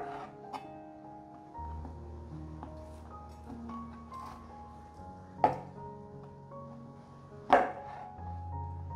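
A knife cuts lion's mane mushroom pieces in half on a board, producing two sharp, distinct thuds a couple of seconds apart over a quiet background hum.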